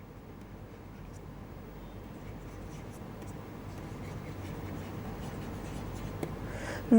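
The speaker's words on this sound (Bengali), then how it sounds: "আরেকটা সেন্টেন্স আমি একই সাথে লিখে নিচ্ছি।" A marker or chalk writes a sentence on a classroom board as a steady scratching texture over a constant low background hum, with one sharp tap at the end.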